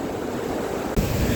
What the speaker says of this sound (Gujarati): તમે ઝરણું જોઈ શકો છો, એકદમ મસ્ત પાણી આવે છે સ્પીડમાં